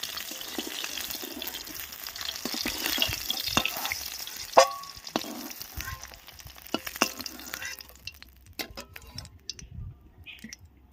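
Oil heats in a wok for frying eggs, giving off crackling sizzles, scattered ticks and pops that fade toward quiet near the end.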